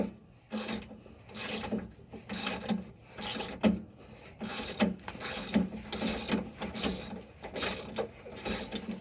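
A socket wrench ratchets a nut off a 2000 Lincoln Navigator Limited in rapid, regular bursts of clicking, each stroke followed by a short pause, close and fairly loud, with no talking.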